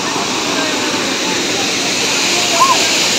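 The waterfall at Gundicha Ghagi dam gives off a loud, continuous roar of rushing water, with faint voices in the background.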